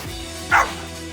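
A dog gives a single short, sharp bark close by during an outdoor dog walk, with a low background hum around it.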